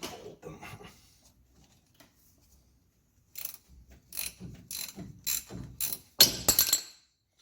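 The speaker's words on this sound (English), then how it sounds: "Let's see if we can unbolt them." A hand ratchet loosening bolts on the underside of an undercoated GMC Vandura van, a few faint clicks at first, then a run of close, crisp ratcheting bursts in quick rhythm.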